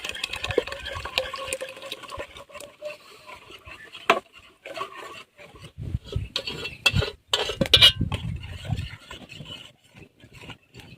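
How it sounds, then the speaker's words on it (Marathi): Semolina is stirred quickly into water in a pot, with intermittent scraping, clinking and wet knocking of the utensil against the pot, fairly close and irregular, with pauses in between. "आता आपण जो रवा घेतलाय तो रवा आता त्याच्यात ऍड करू आणि असं पटकन घोटायचं आहे"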